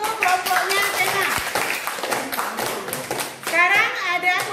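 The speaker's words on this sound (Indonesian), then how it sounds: "Beri tepuk tangan dulu untuk kelompoknya Tema." Classroom applause for a student discussion group in an Indonesian lesson: a burst of brisk hand clapping from many pupils, with children's voices chattering over and after it.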